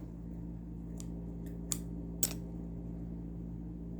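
Scissors snipping crochet yarn, a few quick, close, crisp cuts in a row over a steady low hum, with no talking.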